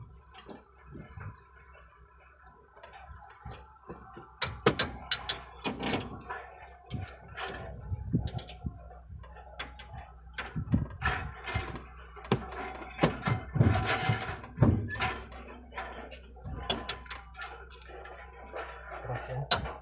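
Sharp metallic clicks and clanks of a wrench working a stubborn nut loose on a CAT excavator track, irregular and close, over a low steady hum with some talking.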